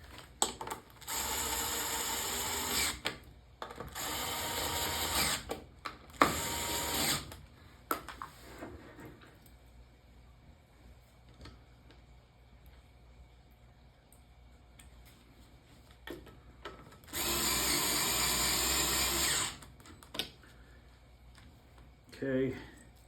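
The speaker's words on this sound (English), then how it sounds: "So now we could use my drill to put these up tight in these." A power drill drives nuts tight with a 7mm socket on a Popeye arcade cabinet, in three loud whirring bursts separated by quieter gaps with faint handling noise.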